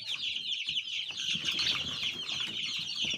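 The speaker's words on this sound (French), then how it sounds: "Vous voyez, les animaux, les poulets aiment bien la feuille de moringa." A group of chickens clucks and chatters continuously nearby, with soft scuffling and wing flutters underneath.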